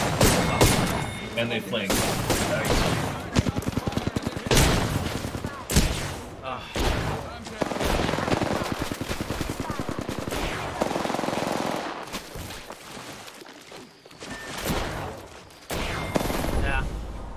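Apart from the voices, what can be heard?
gunfire in a video game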